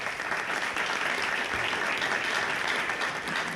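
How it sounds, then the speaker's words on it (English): A crowd at an all-candidates municipal debate applauds a mayoral candidate with steady, dense clapping that holds evenly loud throughout, a continuous wash of many hands with no break. "Let's give him a round of applause, please."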